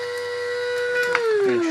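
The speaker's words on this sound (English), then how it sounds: "it's actually grinding all the chilies up now" An electric grinder pulverises dried chillies into powder with a steady, loud motor whine that sags in pitch near the end, with a faint rattle underneath.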